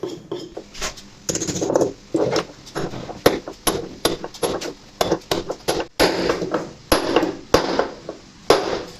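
Sharp metallic hammer strikes ring out in quick, uneven bursts, about twenty blows close by with brief pauses between them, driving a bearing into place in a Bosch washing machine.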